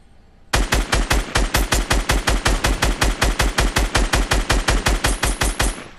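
Rapid video game gunfire rattles off in a steady, evenly spaced automatic burst, loud and close, running nonstop for several seconds after a brief quiet start, with no talking over it.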